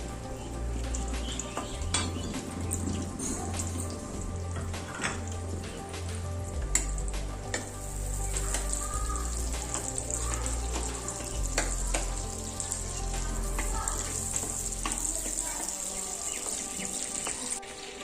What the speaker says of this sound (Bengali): বাটারটা যখন অয়েলের সঙ্গে মেল্ট হয়ে যাবে